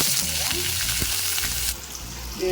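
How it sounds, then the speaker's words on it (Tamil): Mustard seeds spluttering in hot oil in a pan while cooking a stem kootu, a loud, dense crackling sizzle with bursts of popping, steady and close before dropping in level near the end. "கடுகு நல்லா பொரிஞ்சிடும்"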